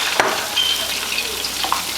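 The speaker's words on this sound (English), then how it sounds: "I'm frying the other pork chops" Pork chops fry in a pan with a steady, close crackling sizzle and a few sharper pops, with no one talking.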